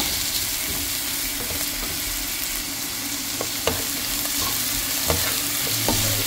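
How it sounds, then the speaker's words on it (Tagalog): Vegetables and liver are sautéed for pancit canton in a hot pan, with a constant close sizzle, scraping stir strokes and occasional clinks of a utensil against the pan. "Gisa lang natin ng konting minuto"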